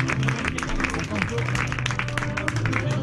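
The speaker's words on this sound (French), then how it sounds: "vous pouvez les applaudir quand même" Audience at a comedy show applauding, a dense patter of clapping heard under a person talking over it.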